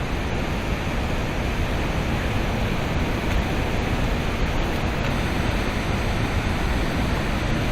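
Broad, steady roar of a Mekong River waterfall, a dense unbroken rush of falling water filling the whole clip at constant loudness with no voices.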